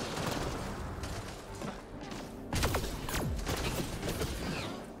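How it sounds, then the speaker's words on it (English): Combat gunfire in the video game Mass Effect: Andromeda, a steady barrage of shots and impacts with a sharper burst midway, under constant battle noise. "Who is shooting at me?"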